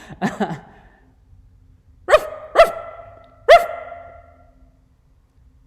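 A man imitates a dog bark with his voice, giving three loud, clipped barks spaced about half a second to a second apart, after a short murmur of preceding sounds.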